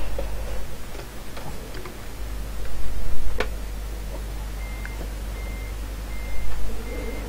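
A Volvo FH12 truck in Euro Truck Simulator 2 sounds its reversing alarm: short, evenly spaced beeps begin midway and repeat steadily over a low engine drone and faint ticking, with no talk.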